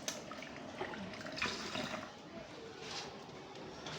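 Water running from a tap as lab glassware is rinsed, a steady faint splashing wash that continues throughout, with a voice talking over it.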